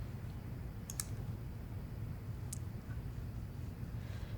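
A computer mouse clicking during a Windows installation: two or three faint, sharp clicks at scattered moments over steady low room hum, with no talking.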